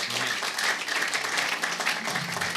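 A church congregation applauds during a prophetic service, a dense, sustained burst of many hands clapping that fills the room evenly from start to finish.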